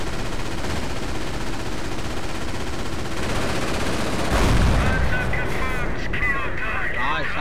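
Sustained gunfire and shelling from a Company of Heroes custom battle, a dense continuous rattle that swells into a heavy blast midway, with someone talking over the combat.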